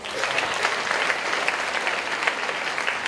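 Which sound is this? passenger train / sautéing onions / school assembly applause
school assembly applause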